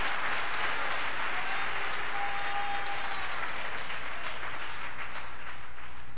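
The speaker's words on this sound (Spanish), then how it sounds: "Vamos a aplaudirle todos al Señor." A church congregation breaks into sustained applause, a dense, steady wash of many hands clapping at once that fills the room for several seconds with no talk over it.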